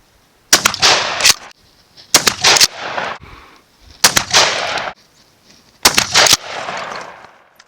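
Four loud 12 gauge shotgun blasts fired with Winchester BlindSide Elite BB shells from guns with cylinder bore, cut down cylinder, improved cylinder and modified chokes, spaced evenly about every one and a half seconds, each with a sharp crack and ringing tail outdoors.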